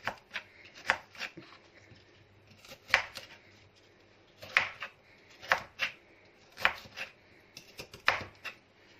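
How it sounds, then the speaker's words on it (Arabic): A knife chops through turnips, cauliflower and carrots on a board in steady, evenly spaced strokes, several quick cuts in each burst, close and crisp, with no talking. "انا هوريكم قطعيه كل حاجه معاكم كده، وبعد كده هكمل طبعا تقطيع لوحدي"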